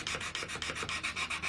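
Rhythmic back-and-forth sanding strokes rasping excess epoxy off a blurple pearl inlay dot on a Les Paul Custom guitar, about nine even, close, scratchy passes with no talking.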